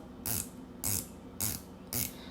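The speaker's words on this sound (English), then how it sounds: "Bezel action is pretty good. No play at all. Really good clicks. Very audible." Diver watch 120-click coin-edged bezel being turned in four short bursts of crisp ratcheting clicks, close and fairly loud, evenly spaced about half a second apart with quiet gaps between.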